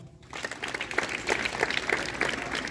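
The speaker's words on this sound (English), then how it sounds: "Give him a big round of applause" A small group claps in a classroom-style gathering, a brief patter of scattered hand claps under a faint murmur, fairly close and moderately loud.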